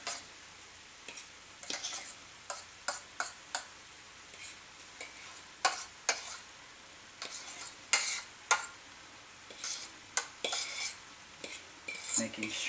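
Spoon scraping and clinking in a pan as mashed potatoes are stirred into a ground beef and onion mixture, sharp irregular knocks with a faint sizzle behind and no speech.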